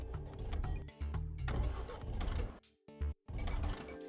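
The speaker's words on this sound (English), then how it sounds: "Obviously, I'm gonna begin by starting the car." A car, a station wagon, cranks and starts up close: loud, broadband engine rumble with brief dropouts near the end, then the idle resumes. No one speaks.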